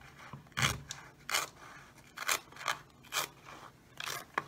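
Scissors snip through a plastic soda bottle while shaping a face shield, giving about eight crisp, separate cutting crunches in an uneven rhythm, close up and fairly quiet with no talking.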